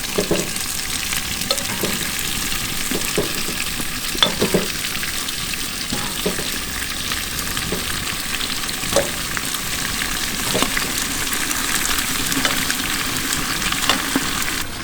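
Beef shanks frying in a hot pan with oil, a loud, steady hiss and crackle close by, punctuated by occasional knocks and scrapes as the meat is moved, with no voices.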